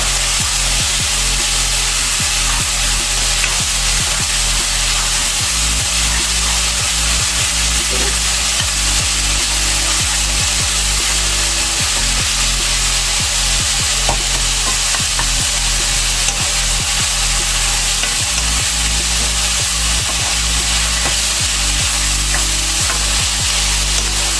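Kimchi fried rice being stir-fried with soy sauce, a loud, steady sizzle running throughout with rapid repeated scraping strokes of a utensil against the pan, close and continuous with no talk.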